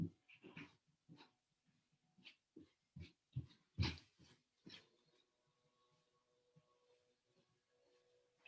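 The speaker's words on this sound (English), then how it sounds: "I need to put the dog up." A dog named Kuma in a home during a low back rehab exercise session, making a run of short whimpers and huffing breaths in quick bursts, then fading to faint quiet rustles, close but soft.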